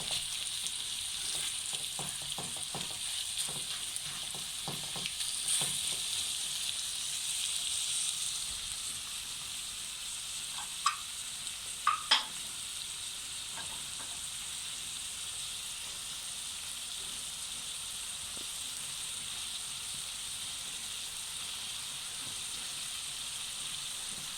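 Minced meat (keema) fries in a pan with a soft, continuous sizzle, joined by occasional scraping and a few sharp clicks around the middle.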